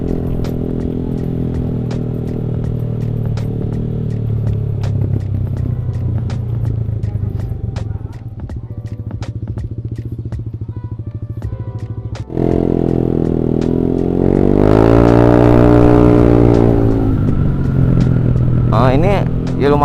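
A Yamaha Aerox 155 scooter with a tuned CVT runs steadily, then revs up loudly and rises in pitch, close by with a rough, rattling tone.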